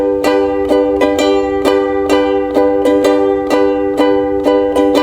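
Ukulele chord strummed over and over in a steady four-beat rhythm, each bright stroke crisp and close, about a dozen strums with no talking.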